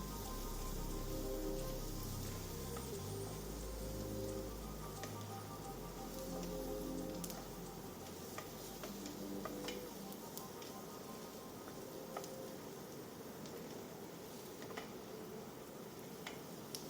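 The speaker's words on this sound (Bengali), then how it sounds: "দিয়ে দিচ্ছি ধনে গুঁড়ো। দেন আবারও ভালো করে নেড়ে চেড়ে ভেজে নিচ্ছি।" Okra frying in a pan as turmeric and coriander powder are stirred in, giving a steady crackling sizzle with scattered ticks and low rumbles, continuous and close throughout.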